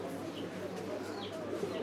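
Pigeons coo at a busy pigeon market, their soft calls mixed into a steady hum of crowd chatter and nearby voices.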